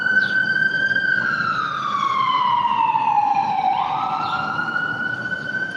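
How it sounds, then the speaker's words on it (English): A wailing siren sweeps slowly downward in pitch, then jumps back up, loud and steady over a low traffic rumble. "The ambulance coming."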